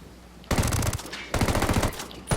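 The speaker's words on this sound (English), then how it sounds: "Tango heard the gunshot." Two bursts of rapid automatic gunfire from a video game, loud and close, separated by a brief pause, with a final shot at the end.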